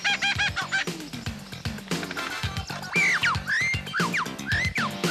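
An Australian lyrebird sings a rapid, varied stream of calls close by, mimicking other birds: honks, chirps, whistles, sweeping trills and mechanical-sounding notes follow one another without pause.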